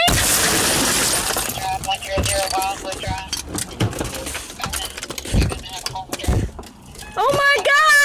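Glass shattering during a traffic stop, a loud burst of breaking glass at the start, followed by clattering debris and frantic voices.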